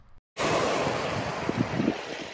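Waves wash onto a beach in Santorini, Greece, in the off-season, a steady broadband roar of surf mixed with wind buffeting the microphone after a brief silent gap at the start.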